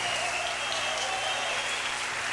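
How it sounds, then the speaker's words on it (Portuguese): A church congregation claps continuously in a dense, even wash, moderately distant and fairly quiet, with no break across the short stretch. "Aplauda para valer"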